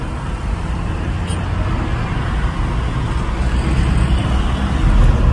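Vehicles revving and driving past on a busy road, a steady broadband roar of engines and tyres that swells slightly toward the end, continuous and fairly loud without talk.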